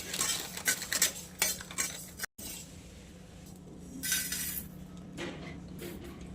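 A spoon stirs masala in a pan as it dry-roasts, with scraping and light clinks against the metal, a faint sizzle, and a steady low background hum.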